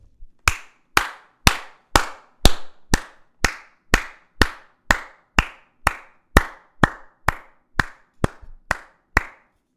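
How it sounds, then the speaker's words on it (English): A single person claps in a slow, even rhythm, about eighteen sharp, crisp claps spaced roughly half a second apart, close and with no crowd. "Round of applause for Yair."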